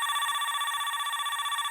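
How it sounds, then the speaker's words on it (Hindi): A telephone ringing with a steady electronic warble, loud and continuous, with faint background sounds underneath. "ओ ये फोन। उठाओ उठाओ भाई, कौन है?"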